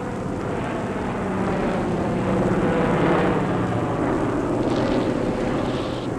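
Wehrmacht aircraft drone overhead above an Arctic sea convoy escorting transports, a steady loud broadband engine roar that swells slightly in the middle and holds throughout.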